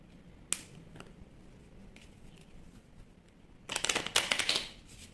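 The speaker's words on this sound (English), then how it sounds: "we're going to shuffle that properly" A deck of cards is riffled in a quick, crisp flutter near the end, following a few isolated soft clicks and taps.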